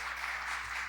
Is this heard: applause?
yes